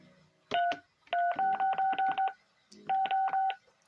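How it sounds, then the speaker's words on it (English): Telephone keypad DTMF tones dial out a number in quick, evenly spaced beeps: two, then a run of about seven, then three more, loud and clean against a quiet room, with a faint voice briefly present. "So now we've typed in 333666666."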